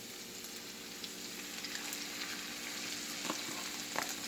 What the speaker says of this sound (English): now this has been simmering here for about 3 minutes